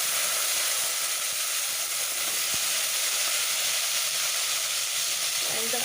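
Chopped vegetables and onions hit garlic frying in hot oil, making a loud, continuous hissing sizzle that stays steady throughout, with a faint clink partway through.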